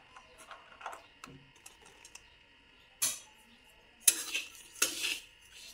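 A spoon clinks and scrapes against a metal bowl while karanji filling is mixed with cardamom powder, charoli and raisins, giving a series of sharp intermittent taps and stirring scrapes, close and clear with quiet gaps between.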